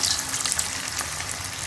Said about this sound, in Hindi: घी गरम है, इसके अंदर कोफ्तों को फ्राई कर लूँगी।